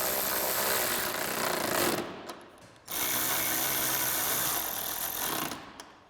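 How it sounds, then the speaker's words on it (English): A 10mm socket on a ratchet wrench snugs down the headlight mounting bolts on a 2014-2015 Chevrolet Silverado 1500, giving loud, dense mechanical clicking and whirring in two long bursts with a short pause between them. "we'll grab that 10mm socket to tighten them down"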